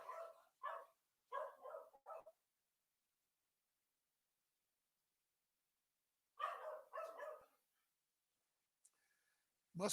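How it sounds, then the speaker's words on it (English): A dog barks in short clustered bursts, a quick run of barks, a long silent pause, then another volley, fairly faint and with no talk over it. "There goes the dog."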